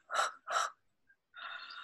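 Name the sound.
yawn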